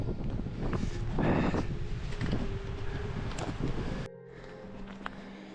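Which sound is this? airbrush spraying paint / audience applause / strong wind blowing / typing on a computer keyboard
strong wind blowing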